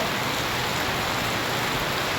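Steady rain falling at the Junagadh market yard during a cumin auction, a continuous broadband hiss of moderate, unbroken intensity with no voices over it.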